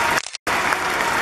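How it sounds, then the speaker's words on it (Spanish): Crowd applause at a public event for the Peñafiel group, loud and dense, cut by a brief abrupt gap before resuming at full strength. "Por eso un aplauso también para Peñafiel."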